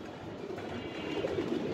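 A black checker crested racing pigeon coos softly nearby, with low rolling calls over a steady background hum.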